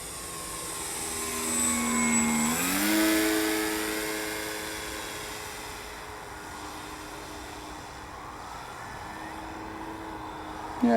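The engine of a Tiger Moth model airplane drones in flight, rising and then dropping in pitch as it passes nearby before fading to a steadier, more distant hum.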